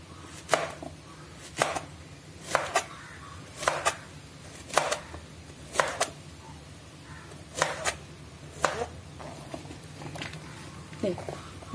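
A knife chopping raw banana for banana chips for an Onam feast, about a dozen crisp, evenly spaced chops on a board, close and clear.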